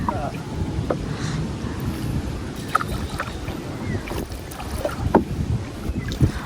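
Strong wind gusts across open water around a small fishing boat out checking bubo fish traps, a steady rough roar buffeting the microphone with occasional knocks and splashes throughout.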